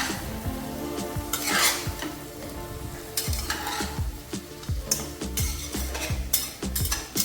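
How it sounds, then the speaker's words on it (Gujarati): Close sizzle of a frying pan as a spoon stirs and scrapes through a whole stuffed onion curry, with bright clinks of metal on metal and no voices. "હવે આપણે મિક્સ કરી લેશું થોડું ચલાવી લેશું આપણે"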